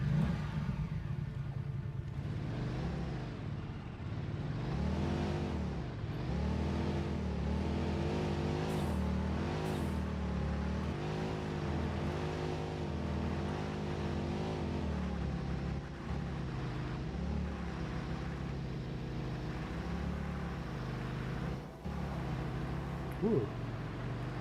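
A car in the video game Satisfactory drives continuously, its engine droning and rising and falling in pitch as it revs and shifts, loud and close throughout with no break.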